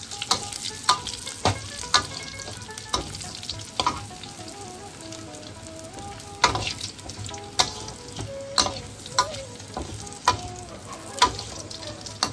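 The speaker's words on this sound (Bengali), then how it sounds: "কাজু কিশমিশটাকে কিন্তু খুব ভালো করে আমরা ভেজে নেব" Cashews and raisins frying in a pan for a stuffed pointed gourd pulao, with a steady sizzle under repeated sharp clinks and scrapes of a spoon against the pan.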